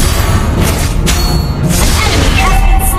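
Lesley's sniper rifle firing in Mobile Legends, heavy booming impacts buried in a loud, dense, continuous mix of game sound effects.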